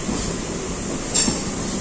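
A Sealdah-line local train in Kolkata runs at speed with a steady loud rolling roar and rail noise, a brief squeal rising in the middle, no voices.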